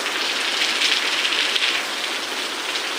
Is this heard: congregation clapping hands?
no